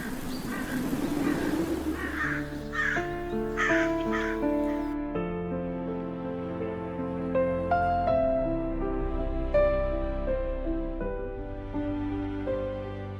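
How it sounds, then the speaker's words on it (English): Dry-season savanna ambience: raspy crow-like bird calls and rustling open the scene, then give way to sustained tonal music-like layers, moderately quiet throughout. "This is the sound of the savanna as the water disappears."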